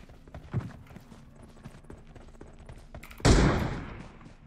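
Gunfire in a shooting video game: a few soft distant shots, then one loud, close blast near the end that decays over about a second.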